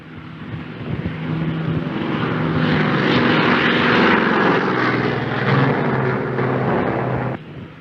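A 1940s propeller aircraft approaches an aircraft carrier deck to land, its engine drone swelling from moderate to loud and close as it nears, holding a rough roar before cutting off abruptly near the end.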